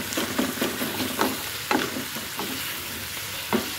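Onions and tomatoes with cumin sizzle in a pan for an onion egg curry, a close frying hiss broken by regular spatula stirring scrapes.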